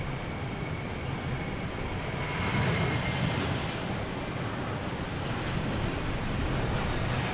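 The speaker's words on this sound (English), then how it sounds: "So JetBlue heading to San Francisco in A321." A JetBlue Airbus A321 jet rolls at Boston Logan Airport, producing a continuous broadband engine roar that stays steady and moderately loud for the whole stretch, with no voices over it.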